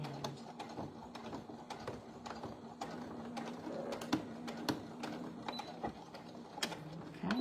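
Sewing machine stitching along a shirt cuff, a run of quick mechanical clicks and needle taps with brief stops and restarts, close and moderately quiet with no talking.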